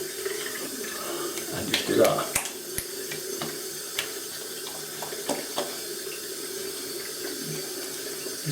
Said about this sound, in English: just get some cold water